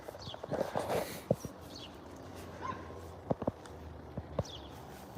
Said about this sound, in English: Oh, here's a cute doggy.